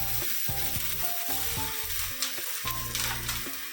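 Cumin seeds, fennel and green chillies crackle and sizzle steadily in hot oil in a pan for a Kerala chicken curry. The close frying hiss continues under background music.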